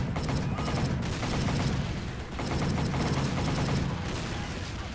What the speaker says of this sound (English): Here you have to get back in the machine gun again and take out another wave of enemies coming up on the beach.